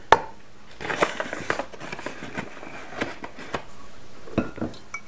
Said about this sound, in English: First we're going to do 4 cups of this bread flour right into my mixing bowl.